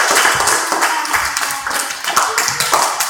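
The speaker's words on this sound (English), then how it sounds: "round of applause for those keepers" Children clap for goalkeepers in a brief, uneven burst of scattered hand claps, fairly close and continuous over a few seconds, with a faint voice or two mixed in.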